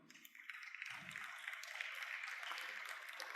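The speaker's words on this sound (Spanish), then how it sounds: "Un aplauso al Señor." Applause for the Lord during a church Bible lesson, a steady broadband patter of many hands clapping that builds and holds for a few seconds, moderately distant and fairly quiet.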